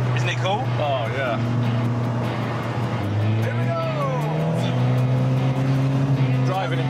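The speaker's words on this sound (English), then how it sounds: "The exhaust's a nightmare. Yeah, it's quite loud, isn't it? Too loud." A Volkswagen Golf GTI in need of a service drives with a loud exhaust, a steady droning engine note rising and settling, while people talk over it inside the car.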